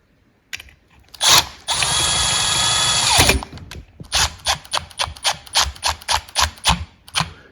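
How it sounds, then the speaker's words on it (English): A power drill whines in short bursts, then a sustained drive of screws into a ceiling fan mounting bracket, followed by a rapid series of ratcheting clicks as the screws are snugged down close by. "You just make sure that all your wires are pushed up, and then we'll run those screws in"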